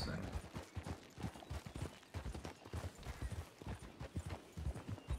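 Rapid hoof clip-clops from a horse in the role-play game El Rancho RP patter steadily throughout, mixed with game sounds and intermittent talking over the top.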